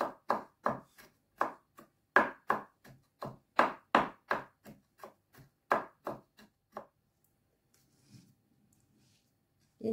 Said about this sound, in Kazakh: турап аламыз чеснок